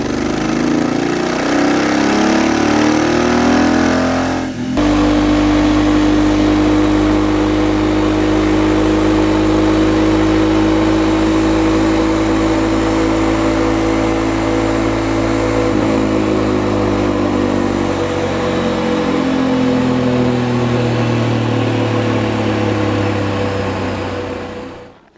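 A Royal Enfield Interceptor 650 motorcycle with a remapped ECU revs on a dyno. After a brief low idle, the engine's loud, sustained roar climbs and holds high through a long full-throttle pull, then fades away at the end.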